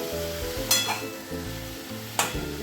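Chili powder and cumin powder sizzle in a pan of mixed vegetable curry as it is stirred, a close, continuous hiss broken by two sharp scraping strokes.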